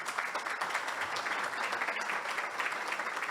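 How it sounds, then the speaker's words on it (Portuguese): Applause at a business lunch with the mayor of Rio de Janeiro, steady dense clapping from many hands throughout, moderately loud and even, with no speech over it. "uma salva de palmas para ele também"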